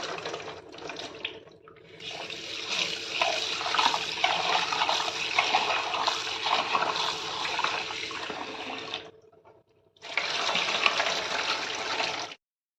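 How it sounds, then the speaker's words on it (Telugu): Water running and sloshing while moong dal is rinsed in a bowl for pongal, a steady close splashing stream that stops briefly and then resumes for a couple of seconds. "ఇలా నీట్గా వాష్ చేసుకోండి ఒకటి నుండి నాలుగు నుంచి ఐదు సార్లు చాలా నీట్గా వాష్ చేసుకోండి"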